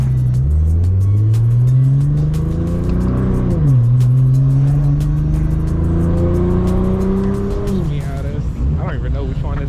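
A Nissan GT-R driving on the road, its engine note climbing steadily through the gears with two clear shifts, loud and close throughout.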